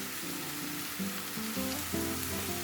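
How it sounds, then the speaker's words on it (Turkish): Fresh green onions sauté in a hot pan for a spinach herb omelette, a steady close sizzle and crackle with no talking. "taze soğan kuru soğan gibi değil. Çok daha hızlı bir şekilde sotelenir."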